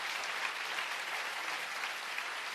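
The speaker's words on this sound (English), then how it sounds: "Give them a round of applause." A room full of people claps steadily at a UN secretary-general candidates' debate in Geneva, a dense, even wash of applause that holds constant for a couple of seconds.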